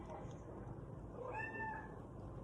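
A pet kitty named Moose gives one faint rising meow outdoors against a steady hiss of rain.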